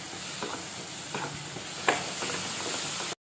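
Ginger-garlic paste with turmeric and tomato purée fries in oil for samosa chaat, a steady close sizzle with a few soft stirring scrapes and a brief clink before cutting off.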